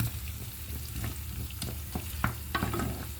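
A spoon stirring a pot of borscht just after two spoonfuls of mayonnaise went in, with soft scraping and knocks against the pot over a low simmering sizzle, close and fairly quiet.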